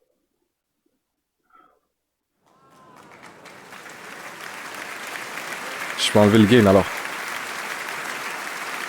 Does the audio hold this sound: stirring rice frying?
no